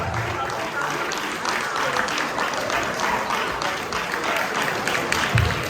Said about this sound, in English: Please keep clapping until she mounts the podium